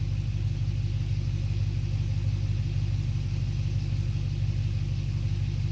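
Low, even exhaust drone from a car idling on its stock muffler, heard up close and continuous without any change in pace or any voices.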